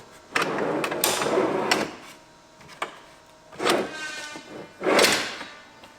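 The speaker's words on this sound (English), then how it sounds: "one sliding sink drawer that is within our kitchen drawer" A sliding sink drawer in a Renault Trafic camper van kitchen is pushed and pulled several times, giving a few separate rolling, scraping bursts with quiet pauses between them.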